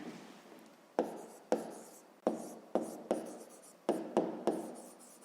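Pen strokes on paper while a fifth-grade math calculation is written out: a series of sharp, close scratches at an irregular rhythm, each fading quickly, with no talk over them.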